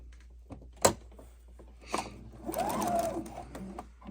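A sewing machine stitching quilt rows together: a sharp knock, then a short, close run of steady mechanical whirring as the needle drives through the fabric, in a quiet room.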